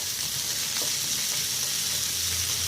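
Paneer cubes drop into a pan of sizzling mixed capsicum, giving a steady, fairly loud frying hiss throughout with a faint stir or two and no voices.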